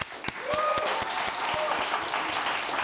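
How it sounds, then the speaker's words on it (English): An audience at a barbershop talk show with an NBA star gives a round of applause, steady dense clapping filling the room for a few seconds, with a voice speaking over it. "especially giving you guys a round of applause for being here"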